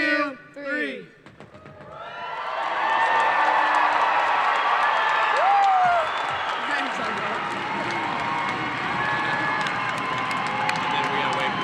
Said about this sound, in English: And then we gotta wait for the cheering to die down